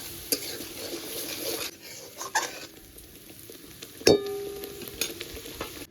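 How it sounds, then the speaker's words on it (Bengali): Masala spice paste for palak paneer sautéing in a pan with a little water, a soft steady sizzle broken by scraping stirs and a sharp clank of the spoon against the pan midway. "এবার ভালো করে মশলাটা কষাবো।"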